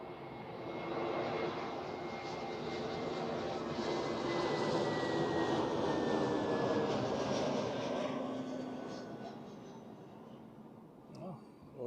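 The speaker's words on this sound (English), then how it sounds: "And here's the A320neo from London." An Airbus A320neo arriving from London lands at Zurich Airport, its engines building to a loud, sustained roar with a gliding whine before gradually easing off, with a voice speaking over it.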